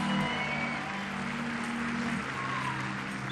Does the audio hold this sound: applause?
yes